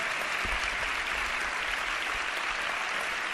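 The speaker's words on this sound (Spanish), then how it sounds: "Os pido un aplauso para él, el organizador de este congreso." A congress audience applauds the event's organizer, steady clapping from a crowd heard at a distance, fairly faint and even throughout.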